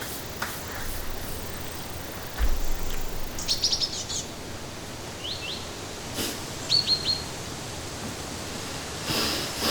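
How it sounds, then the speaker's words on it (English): Birds chirp in short, scattered calls at a distance over a steady outdoor hiss, with a few brief bursts of tweeting and no talking. "Where the birds and everything come from anyway?"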